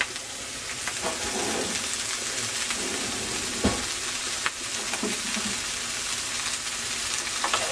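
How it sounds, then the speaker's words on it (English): Onions saute in extra virgin olive oil, giving a continuous close crackling sizzle with occasional clicks and clatters from stirring, and no voices. "We just saute our onions."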